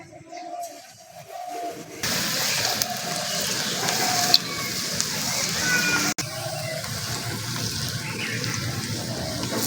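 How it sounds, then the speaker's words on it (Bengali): Cauliflower pieces coated in cornflour drop into hot oil for cauliflower manchurian and fry with a sudden, steady loud hiss and sizzle that continues without pause after a quieter start. "তেলটাকে ভালো করে গরম করে নিয়ে ভেজে নেব।"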